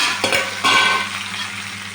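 Fish pieces with tomato, green chili and onion are stirred and tossed in a hot pan for a spicy fish curry. There is a steady close sizzle, with a couple of sharp scraping stirs early on and no voices.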